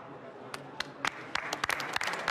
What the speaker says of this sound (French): Ah, timide les applaudissements